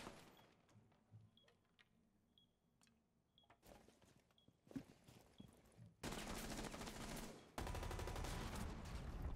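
Rapid bursts of gunfire from a competitive first-person shooter game, including shots fired through walls, with scattered single shots early and then dense, loud sustained firing toward the end.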